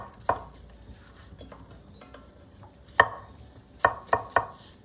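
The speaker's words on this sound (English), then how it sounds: "just slice them any old way" A handful of sharp knife strikes slicing button mushrooms on a cutting board, irregular at first, then three quick chops close together, with faint kitchen clatter between.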